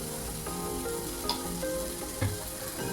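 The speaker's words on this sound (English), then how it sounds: "After 2 to 3 minutes of roasting this masala" Masala roasting in a pan for cauliflower kofta curry over a medium flame, a steady close sizzle with a few soft stirring scrapes and clinks throughout.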